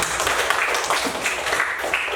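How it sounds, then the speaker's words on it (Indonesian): A fourth-grade class claps hands together in a classroom. The clapping is steady and dense, with many hands at once, and keeps up continuously at a fairly loud level. "Tepuk tangan dulu untuk"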